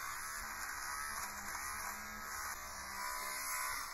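An electric shaver buzzes steadily against the surface of 1990s hockey goalie pads, a continuous close whine with slight shifts in pitch as the head moves across the material, with no talk.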